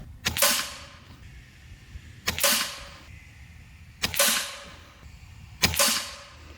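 A regulated Hatsan Flash RQE side-lever air rifle fires JSB 18.13 grain pellets at a paper target, four sharp, loud cracks spaced about two seconds apart, each with a short ringing tail.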